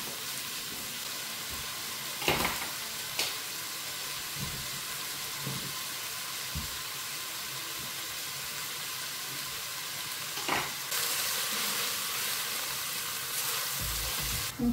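Minced beef sizzling and frying in a pan while being stirred, with steady hissing throughout and a few sharp scrapes and clanks of the utensil, louder toward the end.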